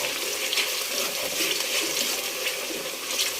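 Water is poured into a mixer jar used to grind onion paste for a Telugu-style bommidayi fish curry, a close, steady splashing stream that runs throughout.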